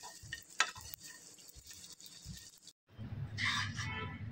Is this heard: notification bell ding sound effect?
no